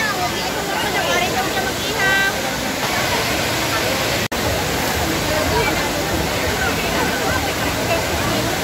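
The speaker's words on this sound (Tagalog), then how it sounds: "nandito na tayo sa falls. So yun o, ganda, lakas ng agos." Tay-Tay Falls in Laguna roars with a strong current, a constant dense rush of falling water close by, with people chattering faintly beneath it.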